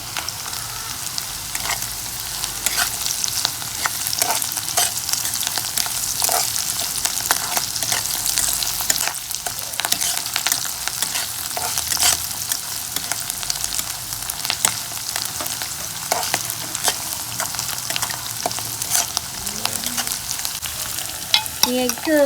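Cauliflower fry stirred in a pan with salt and curry leaves, sizzling steadily throughout with frequent light scraping strokes of the spoon, fairly close and alone without any talk.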